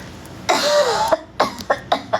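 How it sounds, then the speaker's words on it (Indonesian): A person coughs once hoarsely, then gives a series of short, sharp coughs in quick succession, close up. "Bentar, mau batuk"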